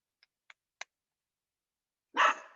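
A dog gives three short, faint yips spaced apart, then a single louder, fuller bark after a quiet pause, close by in an otherwise silent room.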